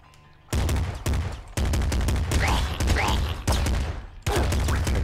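Bursts of gunfire from the top-down shooter game Nuclear Throne, loud, sharp shots starting about every second, some ringing on into rapid volleys and overlapping in quick succession.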